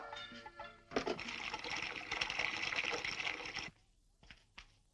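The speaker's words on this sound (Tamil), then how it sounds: "சீலிங்ல இருந்து குத்தால சொட்டுது" Water pours from a leaking ceiling down into the room below, coming from the room upstairs. A dense, steady splashing rush runs for about three seconds and then cuts off, leaving a few faint drips.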